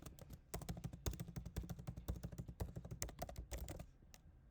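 Rapid, steady typing on a computer keyboard while a password is entered during a website registration demo, with dense close key clicks for about four seconds and no talking.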